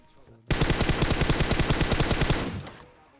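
M4 rifle firing in PUBG Mobile at a military base: one loud sustained automatic burst of roughly twenty rapid, evenly spaced shots lasting about two seconds, then a short decaying echo.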